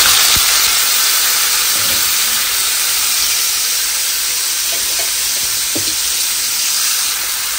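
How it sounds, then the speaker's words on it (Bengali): Pointed gourd coated in salt and turmeric frying in hot oil in a wok, giving a steady loud sizzle and hiss throughout with a few faint knocks. "এখন আমি কড়াইতে দিয়ে দিব, একই সাথে পটল সব তেলের ভিতর দিয়ে দিতে।"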